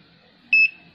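A multimeter gives one short, clear electronic beep of about a sixth of a second while probing an SMD capacitor on a mobile phone repair bench, steady in tone and then gone, with a faint background hum.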